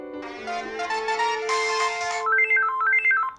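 A cell phone ringtone plays alone, a bright synthesized melody of rising and falling electronic tones in quick stepped notes, close and clear.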